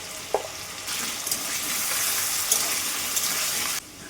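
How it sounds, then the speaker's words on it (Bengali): Potatoes frying in oil in a kadai, a loud steady broadband sizzle that swells up after a brief quiet start and cuts off sharply near the end, with a few small pops and no talking. "প্রথমে আলুগুলো ভেজে নেব"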